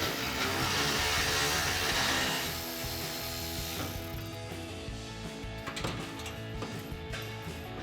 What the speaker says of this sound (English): we've got 1 more bolt to remove on the isolator right at the back of the muffler